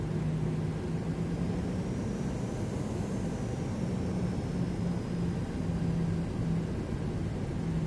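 Airliner engines in a realistic flight simulator: a steady, loud, even whooshing drone holds without a break, with a faint high whine drifting through it.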